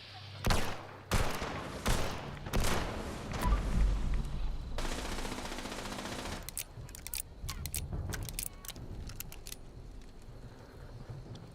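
Gunfire in the Fallout 76 video game, loud rapid bursts in the first seconds followed by scattered sharp single shots and clicks, tapering to quieter intermittent cracks.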